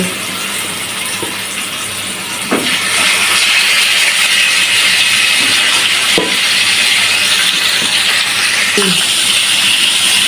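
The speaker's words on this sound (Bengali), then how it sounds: "এবারে ম্যারিনেট করা মুরগিগুলো হালকা করে ভেজে নেব" Marinated chicken pieces hitting hot oil in a wok for chicken biryani, a loud, close, continuous sizzle broken by sharp crackles and pops, the hiss swelling after the first pieces go in.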